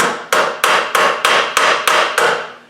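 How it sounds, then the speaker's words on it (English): Eight sharp, evenly spaced hammer taps ring out against the back of an alternator on a 300Tdi engine, nudging a sliding bolt; each metallic knock is close and loud with a short decaying ring, and no one speaks. "before we take the alternator out, we're just going to give it a little tap at the back"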